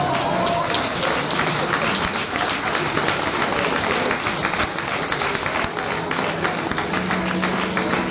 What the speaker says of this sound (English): Lisa, please join us in making some noise, celebrating the fact Saturday is no longer for the boys